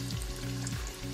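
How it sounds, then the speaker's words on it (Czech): Onion sizzles steadily in hot lard heated in a TESLA EliteCook K70 multifunction electric pressure cooker, a close, continuous frying hiss with a low hum underneath and no talking. "Tak, sádlo se nám rozpálilo. Takže dáme spěnit cibulku."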